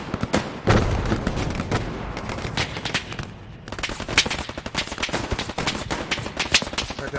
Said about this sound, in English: Tank shooting on us, tank shooting on us.